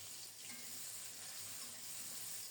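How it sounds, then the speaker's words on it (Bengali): Chopped onion frying in mustard oil after whole cumin seeds were tempered, a soft steady sizzle close up but quiet, with no voices. "ফোড়নটাকে একটু ভেজে নিয়ে কুচানো পেঁয়াজ দিয়েছি"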